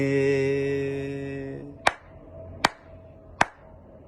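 After a sung or hummed voice trails off, one person claps for someone named Nono: three sharp, separate claps at slow, even intervals in a quiet room.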